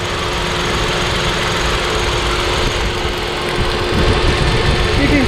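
A used Kia Ray's engine idles close by with a steady rumbling churn and a thin, high squeaky whine running through it; a voice speaks faintly underneath.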